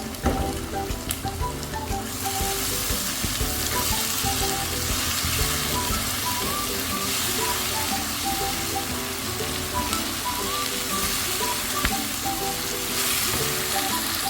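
Onions, cashews and tomato paste frying in a pan for chicken roast, a loud, continuous dense sizzle and crackle with faint stirring scrapes, steady throughout without talk.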